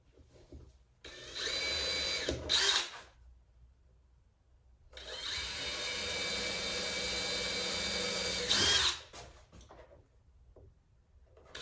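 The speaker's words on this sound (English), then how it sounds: "So this strip has some marks, so I know where I want to drill." A drill bores into a wooden bracing strip for an exhibition board at home in two bursts, a short one then a longer steady grinding run, each ending in a sharper scrape, with quiet pauses between.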